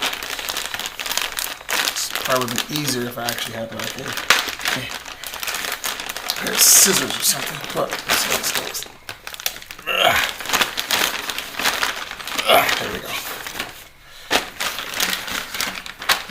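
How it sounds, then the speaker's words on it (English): A plastic bag crinkles and rustles in bursts as it is pulled open by hand, close and fairly loud, broken by pauses while someone talks over it. "I'm about to unbag this bag here"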